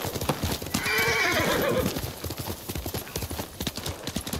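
Horse hooves clip-clop in a steady galloping rhythm in Ghost of Tsushima, with a loud whinny rising early on, close and clear with no talk over it.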